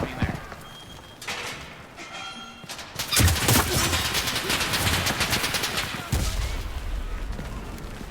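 Rapid bursts of automatic gunfire and explosions in a War Thunder battle, dense rattling volleys starting quietly then becoming loud and sustained, with booming blasts mixed in.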